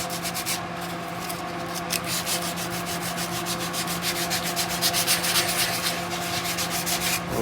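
Sandpaper rubs rhythmically back and forth over a hand-carved wooden guitar neck, giving quick, even scratchy strokes that run continuously and close up, with no talking.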